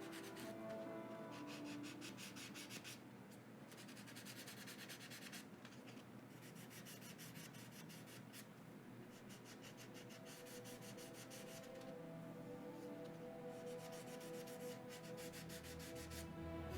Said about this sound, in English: Actually, 180 grit is doing just a great job